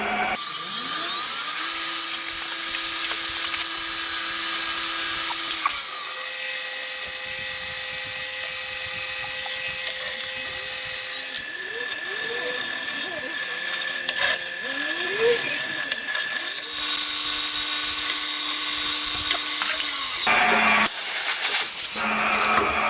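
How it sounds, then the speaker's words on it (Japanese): A center drill works on a crankcase part for a homemade 125cc four-cylinder 16-valve engine, giving a steady whirring machine drone with rising and falling tool pitches and shifting mechanical tones, close and continuous, with no talk. "センタードリルですね。"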